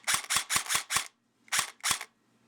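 A Valken airsoft battle rifle firing semi-automatic, sharp close snapping shots: five quick rounds in a row, a short pause, then two more.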